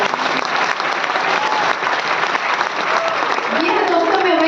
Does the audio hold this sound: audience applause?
yes